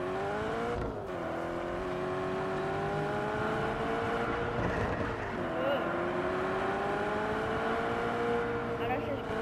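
A car engine in the video game Just Cause 3 hums and whines steadily as the car is driven fast, with the pitch rising and dipping through gear shifts and someone talking over it.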